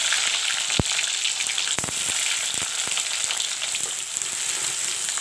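Sliced onion dropped into hot oil with bay leaves and cumin seeds for bhuna jeera chicken: a loud, continuous sizzle with a few sharp pops and clatters near the start. No one speaks.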